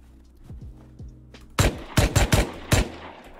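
Gunshots in the survival video game Rust, several loud close shots in uneven succession following quieter distant pops, with no one speaking.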